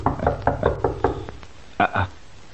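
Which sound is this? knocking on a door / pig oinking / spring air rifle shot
knocking on a door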